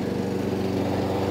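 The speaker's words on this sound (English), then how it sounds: "we got a little bit of some mowing next door" Lawn mower running next door, a steady close-sounding engine drone with a rapid pulsing rhythm, alone and continuous throughout.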